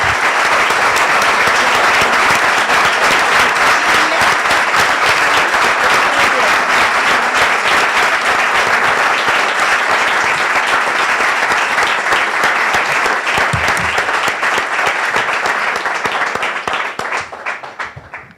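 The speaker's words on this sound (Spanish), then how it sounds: "Quiero aplaudir antes a las 2 artistas." A large audience at an open forum of an art fair breaks into sustained, loud applause for two women artists, dense clapping holding steady for nearly the whole stretch before fading out at the very end.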